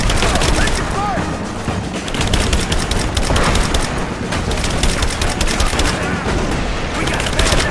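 Sustained gunfire from the Rise of the Tomb Raider video game: dense, rapid volleys of shots crackle almost without pause at a steady loud level, with scattered game voices shouting over the battle.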